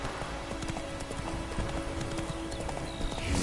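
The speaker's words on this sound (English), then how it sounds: "Run, Roach." Hooves gallop with a rapid, steady clip-clop as a horse runs in a PS4 video game, the rhythmic pounding mixed with game ambience and a faint whinny-like tone throughout.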